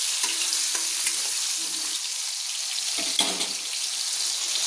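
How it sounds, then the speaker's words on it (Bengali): Tomatoes fry and sizzle in a pan for a papaya hechki kosha dish, with a soft continuous crackle and a few scraping stirs of a spatula, no talking. "তাই টমেটোটা যতক্ষণ না বলছেন ততক্ষণ একটু নেড়ে নিচ্ছি"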